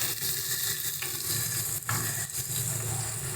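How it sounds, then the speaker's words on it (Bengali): A ginger, green chilli and garlic spice paste fries in a pan for a yogurt-based katla fish curry, giving a loud, steady, close sizzle with faint stirring scrapes and no voices. "এবার ভালো করে সমস্ত মশলাগুলোকে কষিয়ে নেব।"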